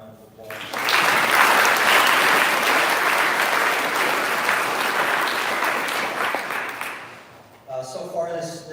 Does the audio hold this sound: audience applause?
yes